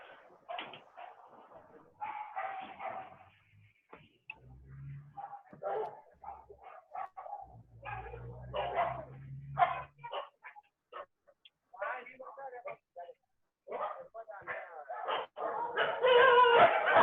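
Several dogs barking at an animal rescue shelter, a mix of sharp barks and yips in repeated bursts, some near and some farther off, with faint talking and low rumbling at times.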